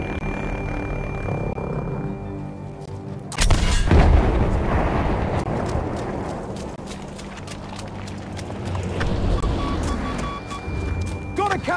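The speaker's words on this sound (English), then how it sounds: "Can you provide a JP-2 airstrike?" A JP-2 airstrike in the Battlefield V game, with a sudden heavy blast after a few seconds followed by rumbling explosions and battlefield noise that stays loud throughout, with voices talking over it.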